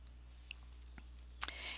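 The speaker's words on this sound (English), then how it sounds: "So let's go ahead and click on email" A single computer mouse click, a short faint tick standing alone against near silence in a quiet room while an email option is selected.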